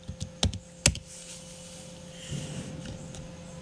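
A few sharp clicks of computer keys, quiet and close, followed by faint room hiss with a steady low hum.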